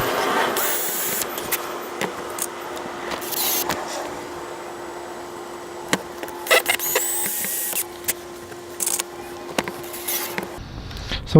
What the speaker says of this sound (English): I'll just pre-drill some holes, and then we'll screw them in.